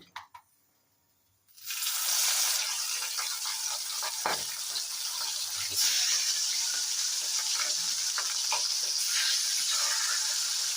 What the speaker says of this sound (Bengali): কড়াই গরম হয়ে গেছে, আমি মাছগুলোকে একটু হালকা করে ভেজে নেব।